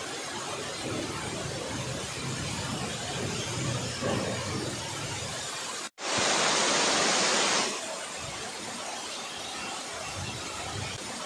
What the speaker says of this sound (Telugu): ఎంత ఫోర్స్‌గా మనకి జలధార అయితే పడుతుంది కొండల పైనుంచి.